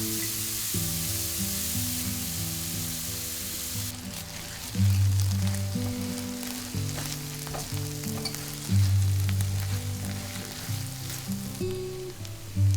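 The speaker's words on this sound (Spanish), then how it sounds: "En la misma olla añadimos cebolla picada en cuadritos pequeños y lo sofreímos por 8 minutos aproximadamente hasta que esté transparente" Finely diced onion sautés in a pot with a soft, steady frying sizzle and occasional stirring, heard beneath tonal background music.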